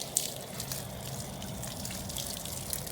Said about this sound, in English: So this hose right here is putting out really too much water.